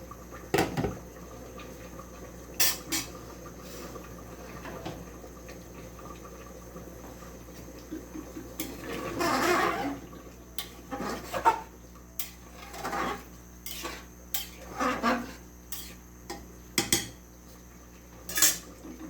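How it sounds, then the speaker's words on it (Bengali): A spoon stirs khichuri in a metal cooking pot, giving repeated scraping clinks and knocks at an irregular pace over a low steady background hum, close and moderately loud. "এটা একটু বারবার এখন নেড়ে দিতে হবে যাতে নিচে না লেগে যায়।"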